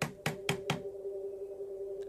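Boards being nailed up in the horror video game Summer of '58: four sharp, evenly spaced knocking hits in quick succession, then a steady low hum, with one more tap at the end.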